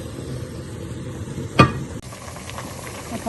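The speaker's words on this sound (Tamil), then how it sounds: "பார்த்தீங்கன்னா தண்ணி கொதிக்குது." Water bubbling and hissing at a boil in a pot for mushroom biryani, with one sharp metallic clank partway through.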